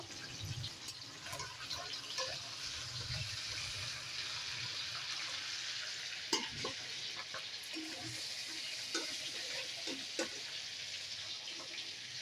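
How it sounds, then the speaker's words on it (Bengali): Hilsa fish fries in a pan with a quiet, continuous sizzle and hiss, broken by a few soft clinks and stirring knocks. "এই যে আমার হালকা করে মাছ ভাজা হয়ে গেছে।"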